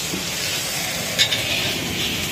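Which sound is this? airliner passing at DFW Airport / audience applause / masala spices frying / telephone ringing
masala spices frying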